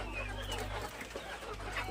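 A young free-range desi hen, due to start laying in about a month, clucks on a small poultry farm. The clucking sits under steady broadband farm noise and a constant low hum.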